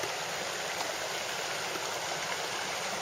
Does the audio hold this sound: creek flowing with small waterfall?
yes